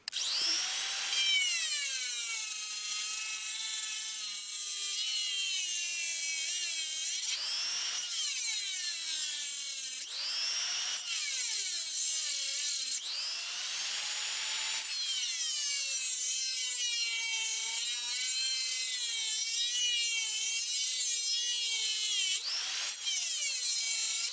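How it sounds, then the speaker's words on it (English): A knockoff Dremel rotary tool with a cutting wheel slicing a slit into a bolt head during BMW E34 pedal box removal, a continuous high whine that rises and dips in pitch under load, with no talk. "this is a knockoff Dremel with a cutting wheel on it"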